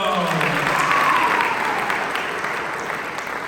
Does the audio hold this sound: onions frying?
no